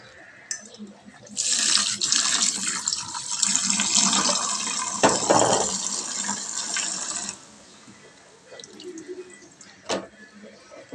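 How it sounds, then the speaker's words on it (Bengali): Boiled taro leaves draining in a kitchen, a steady close splashing of water pouring for about six seconds, then a quieter trickle with scattered drips. "এই দেখো কচু শাক সেদ্ধ হয়ে গেছে, এখন জল ঝরাতে দেবো।"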